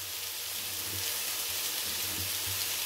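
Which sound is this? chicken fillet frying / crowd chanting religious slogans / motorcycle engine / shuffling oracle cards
chicken fillet frying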